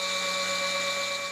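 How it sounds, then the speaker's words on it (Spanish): A drill boring into a stalagmite to extract a powder sample gives a steady, high-pitched whine. It is short, even and continuous, with no voices over it. "se extrae una muestra de polvo con un taladro"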